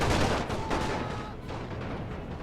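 Machine guns fire in a First World War battle in the Rule Britannia Great War mod: dense, overlapping bursts of rapid gunfire, loud and sustained, with faint speech underneath.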